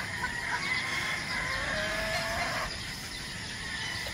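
Gamefarm chickens, hens and pullets, cluck and call in a steady, busy flock murmur, with a brief higher note rising near the middle; the birds sound close and fairly loud, with no talk.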